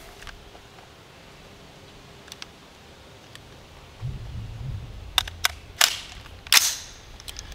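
Rifle being loaded, a few sharp metallic clicks and clacks near the end after quiet handling noise, close and distinct.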